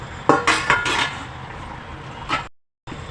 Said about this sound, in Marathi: दहा मिनटं झालेली आहेत झाकण काढून घेऊया